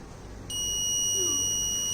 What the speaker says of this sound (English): you can get the buzzer alerts, right? High temperature alerts